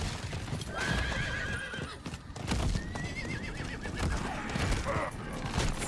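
A horse in the video game Diablo 4 whinnies twice over a steady clip-clop of hooves, with combat noise and clatter around it.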